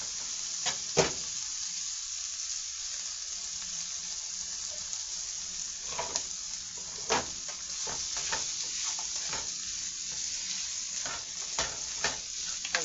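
Mixed vegetables sizzle and crackle steadily in a pan over turned-down heat for a budget tuna rice dish, with scattered sharp pops and spatters over the continuous frying hiss.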